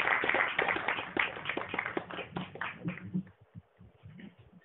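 Audience applause at a Hindi Diwas poetry gathering, a kavi sammelan held at IGNCA, with dense clapping at moderate distance that gradually thins out and fades toward the end.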